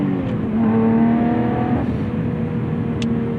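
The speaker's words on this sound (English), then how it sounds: "Here you're getting much more exhaust note." A 2021 Lotus Evora GT's engine holds a high, droning exhaust note at steady revs around 7,000 rpm, close and loud, with a faint whine layered over it and no talking.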